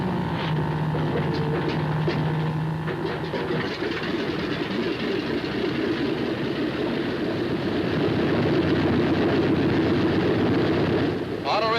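A Martin B-26 bomber engine being started with the mixture pushed to auto rich: a short whine at first, then a rough, sustained roar that grows slightly heavier toward the end.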